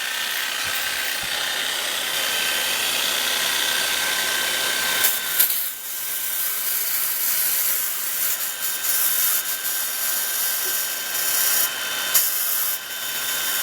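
A rotary polisher spins a dirty wool buff pad while it is spur cleaned, giving a steady, bright whirring hiss; partway through the tone shifts to rougher, scratchy rubbing as the pad slows down, with no talking.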